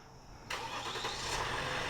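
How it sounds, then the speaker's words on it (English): A 2022 Ram 1500 Limited pickup with the EcoDiesel engine starts by remote start: quiet background, then a sudden crank and catch about halfway through, settling into a steady, even diesel idle with no talking. "and it will start up with the ecodiesel"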